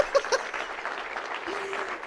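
Sparse, half-hearted clapping from a crowd at a political campaign announcement, faint and thin with a couple of sharper claps near the start, continuing at low level throughout.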